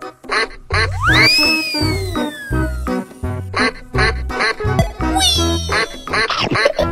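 A duck quacks loudly several times as a sound effect over a steady, rhythmic music track, the calls rising and trailing off, with brief higher squawks near the end.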